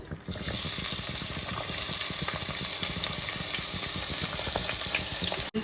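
Steady, loud sizzling of onions and green chilies frying in two spoons of hot oil, a continuous crackling hiss with occasional stirring clatter, no voices.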